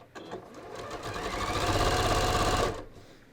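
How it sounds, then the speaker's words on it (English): A sewing machine runs a seam on ready-to-wear pants at a stitch length of 3, with a fast, even needle rattle that builds over about two and a half seconds and then stops abruptly. "I'm just going to start stitching"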